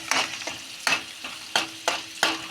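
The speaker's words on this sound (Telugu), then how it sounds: "ఇందులో అయితే ఎల్లిపాయ, జీలకర్ర, ఆవాలు, మిర్చి, ఆనియన్ వేసి వేయించుతున్నా." Garlic, cumin, mustard seeds, chilli and onion fry in hot oil, sharp sizzling bursts recurring every half second or so as the pan is stirred, close and alone.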